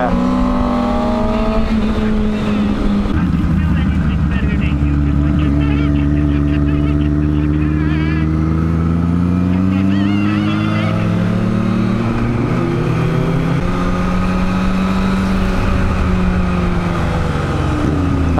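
A Kawasaki Z1000 motorcycle engine roars loudly and steadily, its pitch rising and falling as it revs and shifts, with a voice talking over it.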